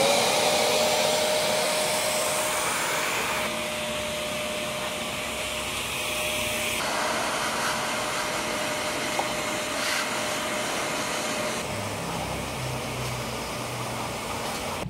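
A vacuum cleaner running in blower mode gives a loud, steady broadband whoosh with a constant whine, dropping slightly in level partway through and continuing unbroken throughout.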